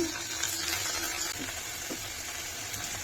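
Chopped tomatoes and shrimp sizzle in a hot pan as a spoon stirs them, giving a steady, close frying hiss broken by a few soft scraping strokes.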